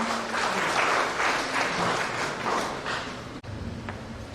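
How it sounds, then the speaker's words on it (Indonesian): An audience applauds at an official handover ceremony at SMKN 3 Komodo school, a steady wash of moderate clapping from many hands that fades toward the end, with no talking over it. "Ya, mari kita berikan tepuk tangan yang mulia."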